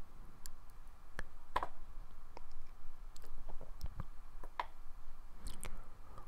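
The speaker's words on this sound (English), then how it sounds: "Okay, I know I'm sort of typing" Irregular clicks and taps of typing on a computer keyboard, scattered and fairly close over a steady background hiss, with no talking.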